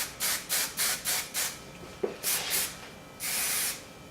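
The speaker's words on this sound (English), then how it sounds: "and then I just apply a little bit of hairspray" Aveda Air Control hairspray is sprayed over hair curls in a series of short, close hissing bursts with a regular rhythm, then one longer spray at the end.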